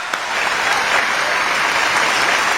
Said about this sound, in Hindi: अरे और जोर से ताली बजाओ यार